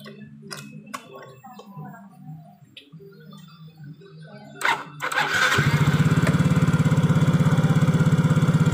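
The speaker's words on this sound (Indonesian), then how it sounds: "suara klotroknya sudah hilang, guys. Ini mesin sudah kembali normal, adem." A Yamaha Mio J scooter engine, repaired of a knocking noise, cranks over and catches, then idles steadily with a fast, even putter; faint clicks and movement come before it starts.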